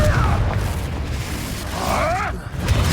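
Confringo blasting spell explosions in Hogwarts Legacy: loud, dense booming bursts with rumbling low end, overlapping in quick succession alongside shifting magical whooshes and game effects, with a voice speaking briefly.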